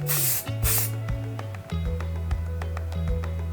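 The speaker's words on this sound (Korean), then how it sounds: "저 앞머리 스프레이 뿌릴 때 보통 요거 로레알 스프레이 많이 뿌리고요." Two quick hissing bursts from an aerosol can of L'Oréal hairspray aimed at a person's bangs, close and loud, each lasting under half a second, with background music continuing underneath.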